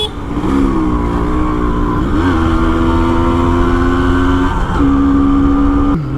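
A Honda CDI H100S motorcycle cruises down a road, its engine droning loud and close with a steady tone that dips and rises at a few gear changes.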